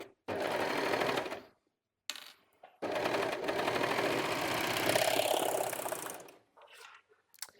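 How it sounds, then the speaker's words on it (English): A sewing machine runs a stretch stitch along T-shirt fabric in two long bursts of fast, even mechanical whirring, close and loud, separated by a short pause, then stopping. "Oh, it's much easier if we turn on the machine first."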